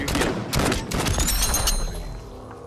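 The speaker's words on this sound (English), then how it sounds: "I just got shots fired at me." Gunfire in the VR shooter Fortnite VR: a rapid series of sharp, punchy shots cracks out over about a second and a half, then tails off into a duller background rumble.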